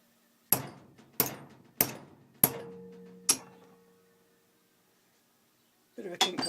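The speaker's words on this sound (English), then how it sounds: "just knocking it with a hammer just to get that little bit of a kink in it" A hammer knocks a metal bracket to bend a slight kink into it: five sharp, ringing strikes spaced about a second apart, then a pause and further clatter at the end.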